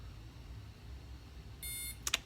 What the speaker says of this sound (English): Hold it for 3 seconds, it'll beep once.